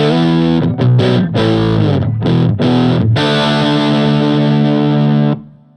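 Electric guitar driven through a TC Electronic Mojo Mojo overdrive pedal plays thick, distorted riffs with a few choppy breaks, then holds one sustained chord that fades out, loud and close with no voices.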